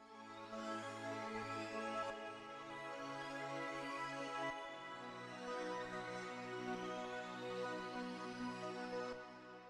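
An Alchemy synth patch in Logic Pro X, left untweaked, plays an Afrobeats melody as a dense, bright, sustained tone with shifting notes, quiet and alone with no talk.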